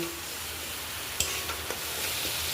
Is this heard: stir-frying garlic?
yes